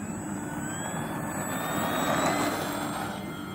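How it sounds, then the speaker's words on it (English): An E-flite T-28B Trojan 1.2m RC airplane on its maiden flight takes off without flaps, its electric motor a steady, loud whine with a faint rising pitch that swells slightly midway, heard alone with no talking. "Okay, I'm going to take off. We're going to do no flaps on this takeoff."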